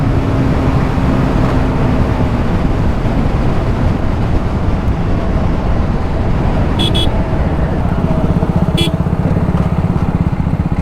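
Two motorcycles, a TVS Apache RR310 and a BMW G310 RR, in a drag race, giving a loud continuous roar of engines and road noise with a couple of brief high-pitched squeaks partway through.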